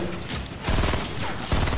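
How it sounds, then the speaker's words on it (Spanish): Video game gunfire from Fortnite, a fast burst of shots that starts about a third of the way in and returns near the end, loud and close against game background noise. "¡Le disparo, le disparo, Wicho!"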